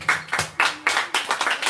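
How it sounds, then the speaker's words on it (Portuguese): A church congregation at a Baptist Bible school claps in uneven rhythmic bursts, steady and fairly loud, with no voices on top. "Vamos aplaudir."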